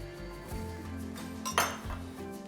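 A metal whisk clinks against the bowl while stirring plant-based milk and melted plant-based butter into waffle batter for avocado waffles, giving a few bright taps and a sharper clatter over a steady background hum.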